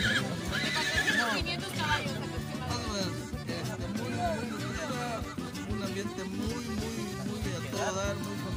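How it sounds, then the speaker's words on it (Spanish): Horses whinny at a large Mexican horse-riding festival with around 400 riders, shrill neighs rising above a crowded mix of hoof clatter and music while people talk nearby. "Creo que venimos con unos 400 caballos."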